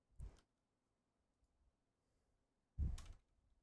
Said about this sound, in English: I gotta get a different keyboard, man.